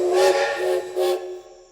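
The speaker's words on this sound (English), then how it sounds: "Oh, toot the train whistle." Everett Railroad No. 11, a steam locomotive, sounds its whistle in two close loud hooting blasts with breathy steam hiss, then falls quiet.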